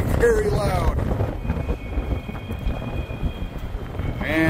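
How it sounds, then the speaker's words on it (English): Strong wind buffets a microphone outdoors at a zoo, a loud rumbling roar that surges and fades throughout, with brief bursts of a voice at the start and end. "We're facing the wind right now, and it is very, very loud."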